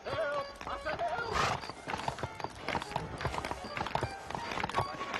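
Horse hooves clip-clopping at a run in the Red Dead Redemption video game, a steady galloping rhythm with a whinny, under frequent character dialogue and shouting.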